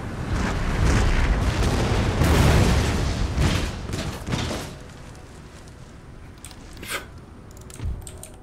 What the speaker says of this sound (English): they're about to receive a hell of a drubbing from all of my artillery then